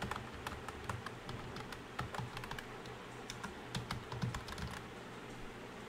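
Quiet, steady typing on a computer keyboard, a continuous patter of small key taps with occasional sharper clicks and no voices.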